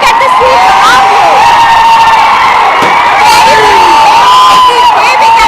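A large crowd at Gandhi Bhavan cheers and shouts a loud, sustained welcome for Revanth Reddy, with whoops and children's shouts rising above a dense, continuous roar that never lets up.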